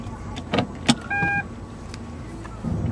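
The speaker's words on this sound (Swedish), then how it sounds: "Nej, jag kör bil." Inside a moving car, a low steady road and engine hum runs throughout, with a brief electric whir near the middle and a few soft clicks and thumps.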